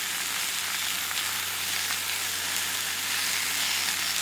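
Butter and fried rice sizzling on a Blackstone flat-top griddle, a steady, dense, close crackling hiss that holds evenly throughout.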